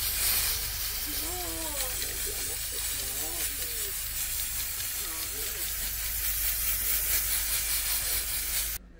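Spray sealer hisses steadily from a can onto painted hardware, a continuous close broadband spray lasting nearly the whole stretch and cutting off at the end, with a person talking softly underneath.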